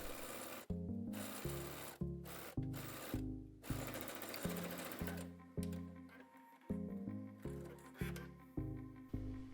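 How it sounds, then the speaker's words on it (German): A sewing machine stitches a pinned seam on a midi skirt in short runs of rapid needle clatter, stopping and starting several times, close and clear with no talking. "Nun nähen wir diese gesteckte Strecke einmal zusammen."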